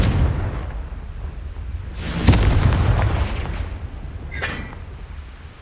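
A Confringo blasting spell in Hogwarts Legacy fires with a whooshing release that ends in a loud booming explosion midway, followed by a fading rumble and a short crackle.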